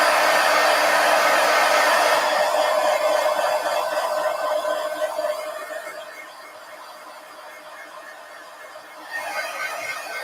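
A hair dryer blows on a mixed media art piece with a steady, loud whoosh. It softens midway, likely as it moves away or is angled differently, then rises again near the end, with no voices over it.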